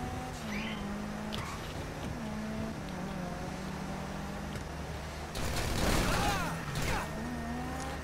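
A prison bus in GTA V Online drives along with a low, steady engine drone close by, and a brief burst of louder mechanical noise comes through near the end.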